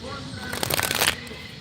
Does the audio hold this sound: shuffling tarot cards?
yes